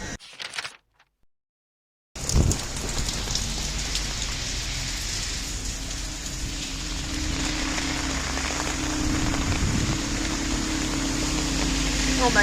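Heavy rain from Tropical Storm Ida pours down steadily and loudly, a dense continuous roar of rain on surfaces after a brief quiet start, with a low rumble beneath it.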